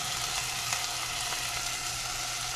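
Pinto beans frying with onion and garlic in a pan give a steady, even sizzle that holds throughout, close by with no voices.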